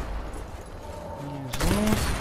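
A gunshot rings out in the video game Sniper Elite 4 on Xbox One, one sudden loud crack partway through over a low game ambience, with someone talking around it.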